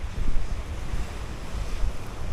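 Surf washes onto Rudakawa beach beside farmland in New Zealand, heard as a continuous rushing roar with heavy wind buffeting the microphone.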